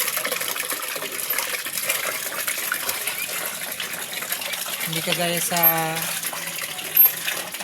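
Water gushes and splashes steadily into a container, with a voice speaking briefly over the pouring near the end.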